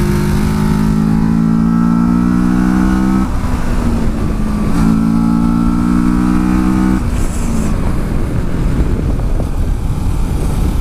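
A 2018 Kawasaki Versys 650 motorcycle, a tall bike, pulls hard on a twisty road with a loud, steady engine drone. It rises in pitch through two long pulls, each broken by a brief dip, with no talk.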